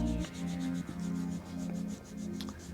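Kinesiology tape on a foot is rubbed vigorously by hand to activate the adhesive, giving a steady, close, repeated rubbing sound in several strokes with a low hum underneath and no talking.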